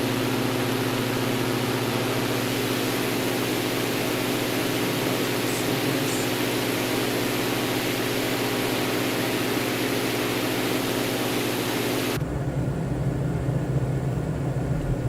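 A steady, loud aircraft engine roars at takeoff power inside a flight simulator game, holding a constant drone with a sharp change in tone near the end and no voices over it.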